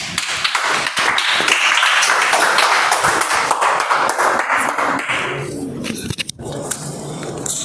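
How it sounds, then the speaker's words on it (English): A meeting audience claps for several seconds in a dense, close patter of many hands that fades into quieter room sound, with a few isolated taps near the end. "Give a round of applause, guys."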